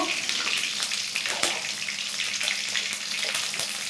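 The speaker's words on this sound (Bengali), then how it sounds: "তো মাছ ভেজে নেব।" Fish sizzling and frying in hot oil in a pan, a steady bright crackle with scattered pops running throughout, close and fairly loud with no voices.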